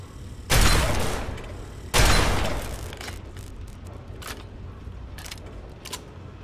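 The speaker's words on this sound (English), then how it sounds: "is that shooting at me?" Two loud, sharp bursts of gunfire ring out about a second and a half apart in Fallout 3, each decaying into a rumbling tail, followed by fainter scattered pops and clicks.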